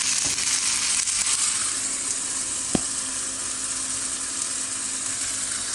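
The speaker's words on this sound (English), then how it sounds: "I'm going to drop some rice." Brown rice for a vegan fried rice sizzles steadily in a hot pan, a close, even hiss with one sharp tap partway through and no talking.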